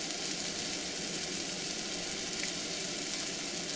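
Steak frying in a pan, a steady, close, even sizzle with a constant hissing texture that holds without pause, fairly quiet overall.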